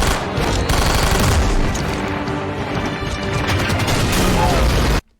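Rapid dual SMG gunfire in a Halo fan animation, a dense, loud sustained burst of shots mixed with crashes and explosions, cutting off abruptly near the end.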